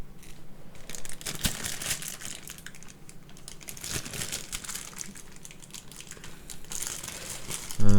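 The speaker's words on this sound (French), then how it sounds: "un peu galère à ouvrir ce sac" A plastic bag holding a USB cable is torn open while unboxing a mixing desk, giving close, continuous crinkling and crackling throughout, with a brief louder thump at the very end and no talking.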